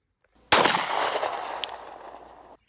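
One sharp gunshot cracks at an outdoor shooting range, close and loud, followed by a long fading echo in otherwise quiet air.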